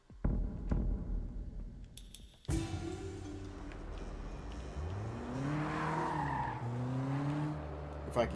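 A loud, clunky car engine in the Sleeping Dogs video game, rising and falling in pitch as it revs and accelerates, with tire squeal, after a few sharp knocks at the start.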